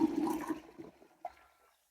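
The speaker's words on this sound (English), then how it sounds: "who doesn't like tipping containers of water from one into another?" Water tipped from one container into another while making compost tea, a short gushing splash that is loudest at first and then trails off into a few trickles and drips.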